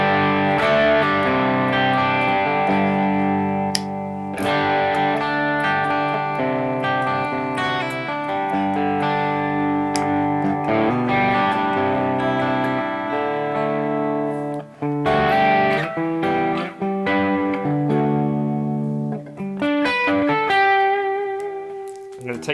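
A Hartwood Charger electric guitar played through heavy distortion, with sustained chords and riffs ringing out continuously at a loud, steady level, brief gaps and pick attacks breaking the wash of saturated tone.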